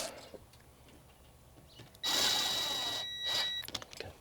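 Roof rack bolts on a third-generation Toyota Tacoma are snugged down with a power tool during a Prinsu Pro rack install. A loud, steady mechanical whir runs for about a second and a half, then a briefer burst follows, with no talking.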